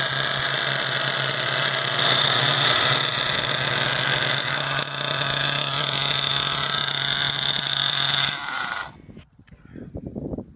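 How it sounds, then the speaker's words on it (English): A twin-engine nitro RC car idles loudly and steadily with a buzzing tone, then cuts off abruptly near the end, leaving faint quieter noises. "it's idling beautifully"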